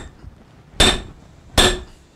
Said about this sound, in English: Now let's hit this on the anvil here.